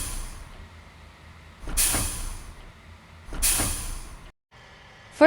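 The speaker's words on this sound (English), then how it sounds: "Handbrake sound." A bus handbrake releasing air in the Bus Simulator Indonesia game, two sharp loud pneumatic hisses that fade away, with low engine idle in between.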